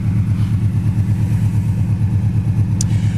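A 1971 Oldsmobile Cutlass with a 352 engine idling smoothly close by, a steady low rumble with even rhythmic pulses and a brief faint tick near the end.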